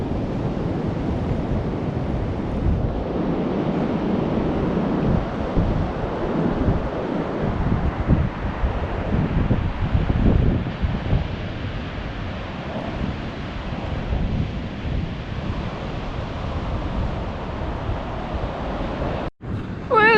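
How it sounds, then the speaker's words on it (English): Blustery, cold winter wind buffets the microphone on an empty Welsh coast beach, a steady loud roar with gusts rising and falling for twenty seconds, surf faintly underneath. "here we are on a very blustery, cold day"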